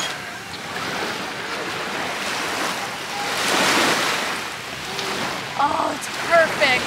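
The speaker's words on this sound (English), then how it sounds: "that sound of the water lapping onto the shoreline" Lake Tahoe water lapping onto the shoreline, a soft continuous wash of small waves with gentle swells and some wind, fairly close, with brief voices near the end.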